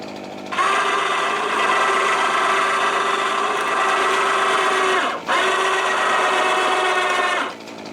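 A battery-powered winch takes up slack on a rope at a swamp's edge, a loud steady motor whine that runs for several seconds, stops briefly, resumes, and then cuts off.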